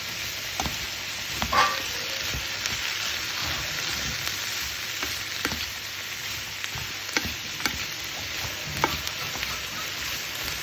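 Chanterelle mushrooms bubbling in butter in a pan, a soft continuous sizzle and crackle with scattered sharp pops and occasional stirring scrapes, close and fairly quiet.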